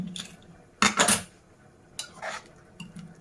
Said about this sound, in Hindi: अब उसके बाद हम ये प्रेशर का ढक्कन खोलेंगे